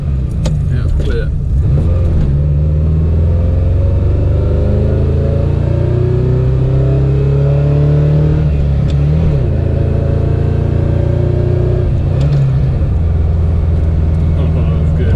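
A Ferrari Dino 308 GT4 accelerates hard on a mountain road, its engine loud and close as it climbs through the revs, eases off briefly, then pulls again, steady and dominant for the full stretch.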